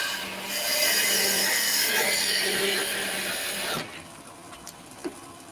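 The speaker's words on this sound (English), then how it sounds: "You actually angle the tool across a little bit like this, and you do a planing cut with the edge of it." A woodturning tool angled across spinning wood on a lathe makes a planing cut, a loud, steady scraping hiss lasting several seconds that stops abruptly, leaving a quieter motor hum with a few faint knocks.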